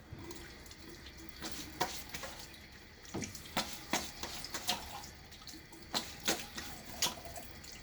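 A razor is rinsed under a running tap, with steady water flow into a sink broken by repeated splashy taps as the blade is knocked and swished, close and fairly soft.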